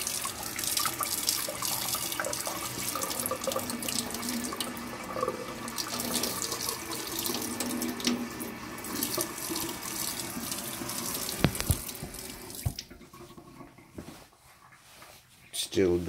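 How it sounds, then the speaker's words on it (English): Water pours and drips off a TYR Venzo techsuit into what sounds like a sink, a close splashing trickle with scattered drips that thins out toward the end, with people talking over it. "Let's get a close up of the water falling off."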